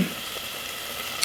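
Onions frying in a teaspoon of olive oil in a pan, a steady close sizzle with no talking.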